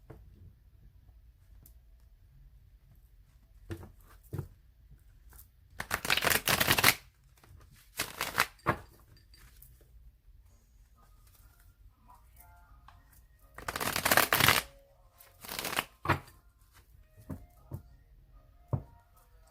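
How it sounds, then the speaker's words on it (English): Tarot cards being shuffled by hand, heard as several brisk riffling bursts spread across a quiet stretch, close and moderately loud, with soft handling noises and pauses between them. "And let's go ahead and shuffle it 2 more times."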